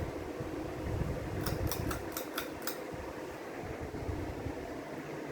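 A 42-inch Gulf Coast Georgianne ceiling fan with its light on, slightly wobbling, gives a steady broadband whoosh of moving air and low rumble, with a brief run of faint high clicks midway.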